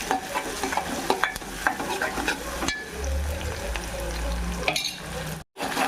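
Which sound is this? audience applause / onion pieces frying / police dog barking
onion pieces frying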